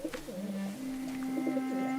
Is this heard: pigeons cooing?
yes